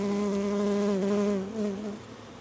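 Honeybees drone in a loud, close, continuous hum around an open hive with laying workers, the pitch wavering slightly as insects move near, and no voices.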